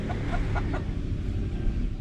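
Chickens kept under a house, a few short clucks heard faintly over steady low background noise.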